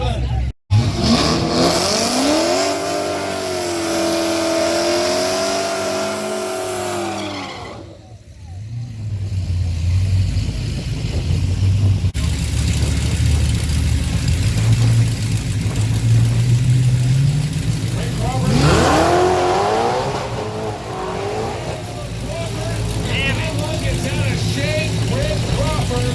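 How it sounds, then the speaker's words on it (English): Drag racing cars at Houston Raceway Park launch and roar down the quarter mile, loud engines revving and rising in pitch over steady crowd and track noise, with a brief lull before another engine surge. "About to blast off down the Houston Raceway Park quarter mile."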